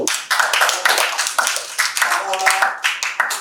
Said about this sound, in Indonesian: tepuk tangan dulu dong buat dulu